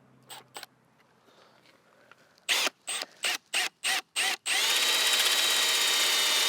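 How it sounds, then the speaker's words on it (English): A power drill whirs in five short bursts, then bites in with one long, loud, steady grind as the hole saw cuts through a Subaru BRZ car bumper. "we'll take our hole saw that comes with our kit, and we'll simply drill"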